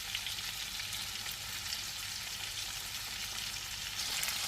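Salmon fillet frying in a pan gives a dense, even, crackling sizzle that holds steady and close without any talk.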